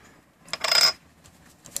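A tight retaining ring on a Rollei 50mm f1.8 HFT Planar lens is twisted loose, giving a short metallic scrape and grinding rasp, followed by a faint click, close and quiet.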